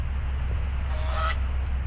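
A single goose honk sounds from a distance over a low, steady background rumble.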